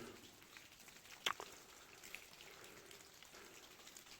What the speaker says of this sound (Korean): 천정에서 흘러내리는 물이 계속 떨어지고 있습니다